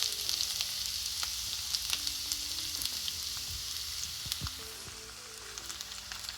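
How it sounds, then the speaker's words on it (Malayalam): Ginger and mustard seeds fry in hot oil for a Kerala pulissery curry, giving a steady close sizzle dotted with sharp scattered pops and crackles, with no voices. "കടുക് മുഴുവൻ പൊട്ടിക്കഴിയുമ്പോൾ ഇഞ്ചി ഇട്ടു"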